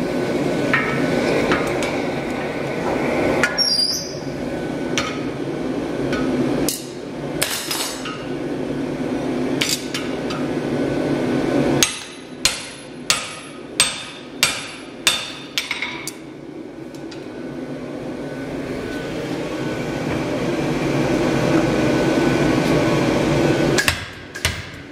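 An Electrofunk 65 power striking hammer punches a plug through 1 5/8 inch square 4140 steel. A run of loud, sharp metallic blows sounds close, with a rapid burst of evenly spaced strikes in the middle and a low machine hum between them.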